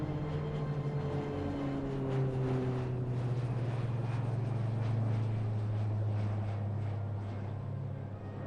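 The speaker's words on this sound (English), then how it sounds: "Was that an Electra I heard?" A King Air turboprop aircraft passes overhead with a steady propeller drone whose pitch slowly drops, loud and continuous throughout with no speech.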